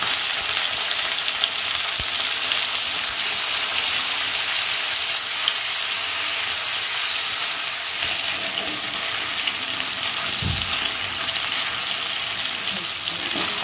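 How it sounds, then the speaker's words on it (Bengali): Chicken pieces fry in hot oil until browned, a loud, continuous sizzle close by, broken by a few soft knocks and one brief clunk near the end, with no one talking. "এটা যাতে একটু ব্রাউন কালার এসে যায় সে পর্যন্ত আমাকে চিকেনটা ভাজতে হবে"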